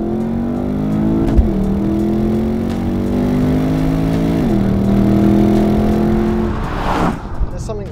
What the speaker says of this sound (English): There's something very nice about a Porsche V8.